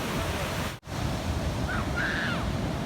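Ocean surf washes on a beach at Gyeongpo in a continuous, fairly loud rush with wind, briefly cut off once, and a faint bird call rises near the end.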